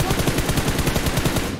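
Automatic gunfire in the mobile battle royale game PUBG Mobile, a fast, even stream of loud, close shots cracking in a tight rhythm.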